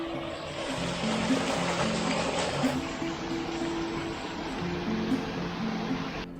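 A small spring stream feeding a little waterfall on a walking trail between Florence and Prato flows with a steady, close rushing and trickling sound, continuous and uninterrupted.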